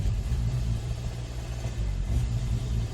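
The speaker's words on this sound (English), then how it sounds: "I'm gonna push the gas, and you're gonna see this." A 2014 Hyundai Sonata with a knocking engine strains under full throttle, a steady low rumbling drone heard from inside the car without rising revs.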